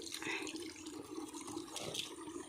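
Water flowing in a forest stream where bamboo shoots are being gathered, a soft continuous trickle and splash that stays faint and low throughout, with no voices.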